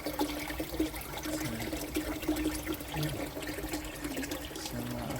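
Old pond water trickles and splashes into a container, a soft, uneven liquid pour with faint dribbling throughout, fairly quiet and without any talk.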